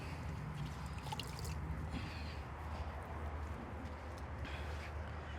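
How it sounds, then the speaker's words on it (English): Water from a towel wrung out by hand drips and trickles into a rinseless car wash bucket, a steady soft patter close by with no talking. "A little hard to wring out a towel one-handed"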